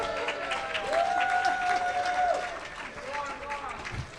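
An audience at a community celebration variety show applauds steadily for Kathy, with dense clapping that gradually fades, and a voice can be heard speaking over it.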